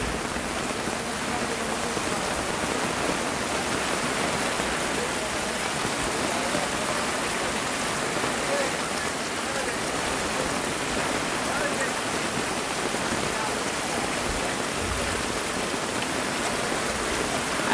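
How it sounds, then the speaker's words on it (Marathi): Rushing floodwater flows with force through a village, a dense steady roar of churning water like surf that is loud and unbroken throughout, with faint voices underneath. "हे बघा प्रेशर बघा पाण्याला."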